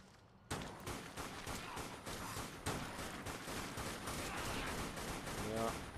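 Rapid rifle fire in the zombie shooter game Dead Nation, a dense stream of loud, regularly spaced shots that begins abruptly and keeps going almost without pause.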